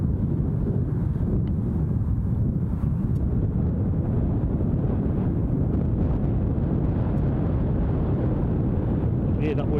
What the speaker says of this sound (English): You can hear that wind now, can't you?